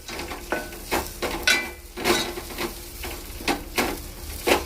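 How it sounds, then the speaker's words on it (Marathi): Cashews and almonds tossed into a pan of grated sweet potato, with repeated stirring scrapes and light clinks of a spoon against the pan at an uneven rhythm, close up. "आपल्या याच्यातच टाकते मी थोडेसे काजू बदाम"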